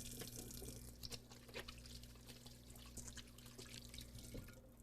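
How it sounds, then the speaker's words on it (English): Tap water running into a kitchen sink while hands are washed, a steady close splashing with small drips and spatters throughout, over a faint low hum. "Let me just wash my hands a second"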